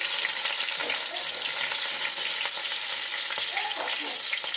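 Green and dried chilies fry in oil in a wok with a continuous busy sizzle and light stirring scrapes, no voice.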